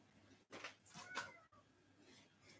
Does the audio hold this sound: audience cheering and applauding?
no